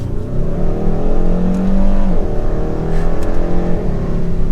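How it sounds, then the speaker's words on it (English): A 2022 Hyundai Sonata N Line with a 2.5-liter turbo four-cylinder accelerates at full throttle up to 65 mph, its engine note climbing loudly and steadily with a brief shift-like dip midway, no voices present. "That was pedal to the floor up to 65 miles per hour."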